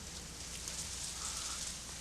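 Steady, even rain falling on a surface, a soft continuous hiss with no voices, fairly quiet throughout.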